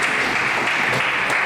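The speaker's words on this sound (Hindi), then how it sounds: "सबके लिए तालियां।" Applause from a studio audience at a televised student quiz competition, a thick, even burst of many hands clapping at once, loud and continuous for the whole short moment.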